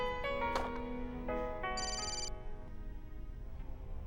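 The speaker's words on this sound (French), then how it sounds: "Je vais répondre au téléphone." A telephone rings indoors in a domestic drama scene, a ringtone-like electronic tone with a bright high burst in the middle, steady and moderately loud over soft background music.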